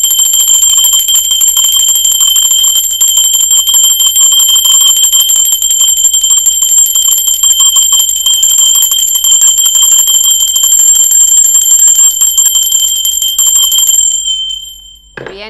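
A small bell rings continuously and loudly for about fourteen seconds during a spiritual tarot reading, a bright, steady, rapid metallic ringing that then cuts off abruptly, with no voice over it.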